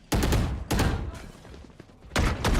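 Gunfire in a competitive Valorant match sounds as three sharp, loud bursts of rapid shots, each about half a second long, separated by quieter gaps of game ambience.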